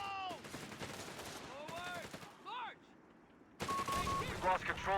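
Machine gun fire in Company of Heroes 3, rapid bursts of rattling gunfire in a battle with other weapon shots and effects, a short lull then louder renewed firing, with game voices mixed in.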